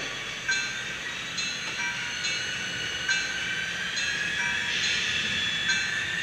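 Steady high-pitched whir from a running model train, a continuous hum with light rhythmic clicks, close and fairly loud with no talking.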